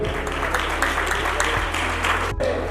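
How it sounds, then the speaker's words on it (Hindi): Congregation clapping in thanksgiving during a Christian wedding ceremony, a dense continuous patter of hands over a low constant hum, fairly loud and sustained with a brief dip near the end. "तो ताली बजा के से प्रभु का धन्यवाद करेंगे।"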